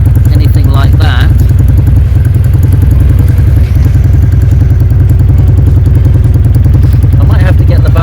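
A Jawa 350 motorcycle engine runs steadily and loudly up close, its low mechanical thrum continuous throughout, with a few clattering knocks near the start and a voice talking over it.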